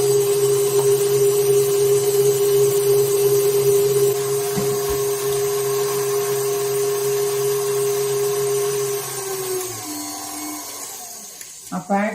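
An electric hand mixer beats carrot and chocolate cake batter, a close, steady motor whine that holds for several seconds, then drops in pitch and winds down near the end.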